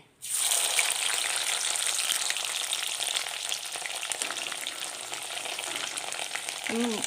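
Coconut pieces drop into hot oil and a loud, steady sizzle starts at once and carries on close by without pause, no one talking.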